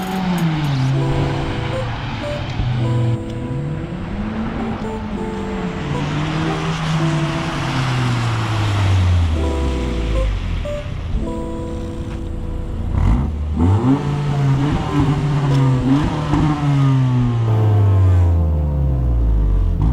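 An 11th-generation Honda Civic Si with an exhaust delete pulls hard down a street, its loud, raspy engine note sweeping up through the revs, dropping at gear shifts, then climbing again.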